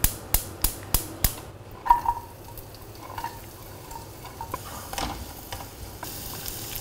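Oil sizzling in a pan while pizza sandwich filling is cooked, a soft steady frying hiss under a string of sharp taps and clicks at the start.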